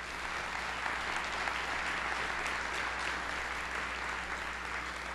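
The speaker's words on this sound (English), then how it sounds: "Let's give them a quick round of applause." Conference attendees give the organizers a quick round of applause, an even, continuous patter of many hands clapping at moderate volume with a low steady hum beneath it.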